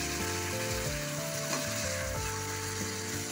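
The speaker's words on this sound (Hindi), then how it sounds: "कीमा डाल के दो मिनट भून लेंगे।" Minced meat (keema) fries in a pan with onions, giving a steady dense sizzle with faint scraping and stirring tones under it. It is close and even, with no speech.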